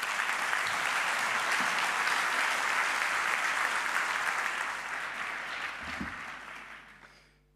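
Crowd applause from the audience opening an evening business event for the MEDEF 31 president, dense and sustained, then fading out over the last two seconds with no talking.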